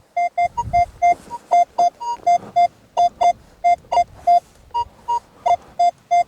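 A metal detector sounds a signal over a partly copper target in a field, a quick string of about two dozen clear, evenly pitched beeps with brief gaps, loud and close.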